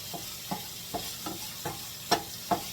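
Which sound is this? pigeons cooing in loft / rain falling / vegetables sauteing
vegetables sauteing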